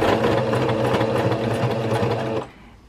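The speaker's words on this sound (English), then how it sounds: "I lower the needle first, go forward, a bit backwards, and then I sew the entire line through." A sewing machine stitches a seam close to the edge of fabric for a DIY onesie outfit, a steady fast mechanical whir and rattle up close that stops abruptly near the end.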